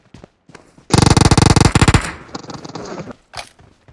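Automatic gunfire in PUBG Mobile rips out as one loud, rapid burst of about a second, followed by a softer rattle of shots and a few scattered clicks.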